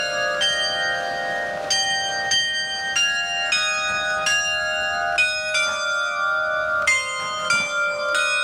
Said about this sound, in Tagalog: Tumutunog yung mga bell.